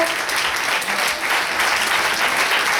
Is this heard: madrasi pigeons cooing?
no